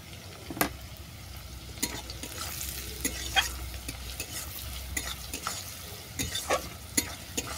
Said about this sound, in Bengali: গরম মশলা আর হলুদ ভালো করে মিশিয়ে নিলাম।